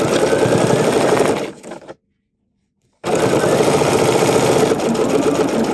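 A sewing machine stitches a seam on a reversible table runner, running loud and close with a fast steady buzz. It stops for about a second of silence, then resumes at the same pace.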